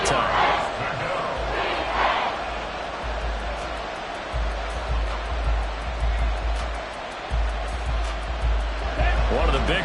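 Stadium crowd in the Madden 24 football video game, a steady loud roar of cheering and noise that swells throughout, with a commentator talking over it.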